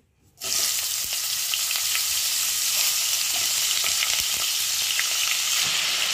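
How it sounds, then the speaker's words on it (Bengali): Cauliflower florets frying in hot mustard oil with a little salt, a loud, steady sizzle that starts abruptly and holds unbroken, with occasional faint pops and scrapes and no voices. "তেলটা গরম হয়ে গেছে, একটু লবণটা আগে দিয়ে নিচ্ছি। ফুলকপিটা ভাজা হবে আগে।"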